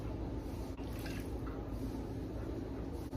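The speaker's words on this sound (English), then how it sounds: "And then I'm gonna go and get 6 cups of water and add to this." Water from a measured six cups is poured into a pot of Italian sausage soup base, a steady close splashing fill with soft dribbles and no talk.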